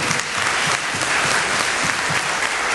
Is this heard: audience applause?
yes